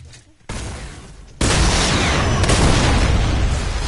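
Shotgun blasts ring out in the Fortnite video game. One sharp report comes first, then a louder burst follows and holds as a dense, sustained roar.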